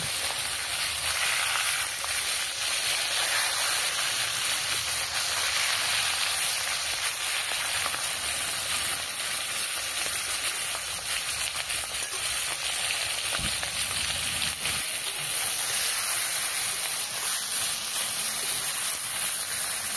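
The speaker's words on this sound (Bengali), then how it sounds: "এবার মাছের মাথাগুলো ভেজে নেব।" Fish heads fry in hot oil, giving a continuous bright sizzle and hiss that stays steady and close throughout, with no talk.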